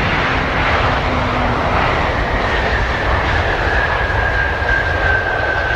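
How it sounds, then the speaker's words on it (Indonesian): A cargo plane flies overhead, its engines a loud, steady roaring drone that holds constant throughout, with a faint whining tone drifting slightly in pitch. "Ini pesawat kargo."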